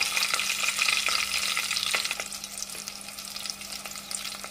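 Coarsely crushed small onions sizzle in hot oil with chillies and curry leaves. The frying is a steady, close crackle with stirring scrapes over a faint low hum, and no voices are heard.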